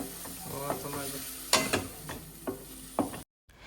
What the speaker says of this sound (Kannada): ಇದಕ್ಕೆ ಪನ್ನೀರ್ ಸ್ಲೈಸ್ನ ಹಾಕಿ ಚೆನ್ನಾಗಿ ಫ್ರೈ ಮಾಡ್ಕೊಳ್ಳಿ